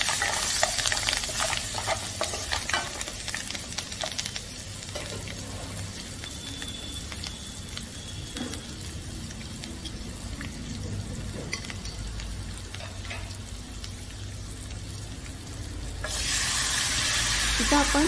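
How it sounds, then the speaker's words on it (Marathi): Buttermilk is poured into a hot tempering with coriander for Maharashtrian dahi kadhi. It makes a steady, close sizzle under continuous stirring, which swells louder near the end. "जे आपण ताक तयार करून ठेवले ते आता आपण या फोडणीमध्ये टाकून घेऊया"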